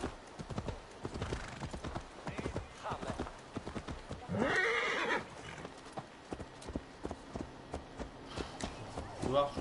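In Assassin's Creed Valhalla, a horse's hooves clop in a rapid galloping rhythm, broken midway by a loud, shrill neigh, with someone talking over the hoofbeats.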